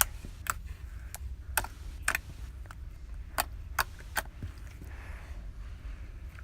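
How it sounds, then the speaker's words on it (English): Sharp little clicks and pops from slime repeat irregularly, close and fairly crisp, over a soft steady background noise. "Here's some clicking noise."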